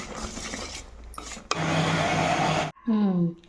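A kitchen mixer grinder whirs loudly up close, grinding lentils for festival sweets, in a few bursts of high, steady motor whine with a brief stop and restart, no talk.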